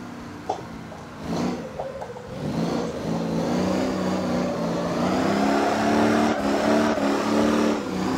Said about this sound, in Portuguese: Vai meter mais uns driftão aqui, ó.